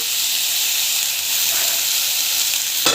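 Tomatoes frying in a pan give off a steady, loud sizzle that stays constant throughout, with a brief sharper burst near the end.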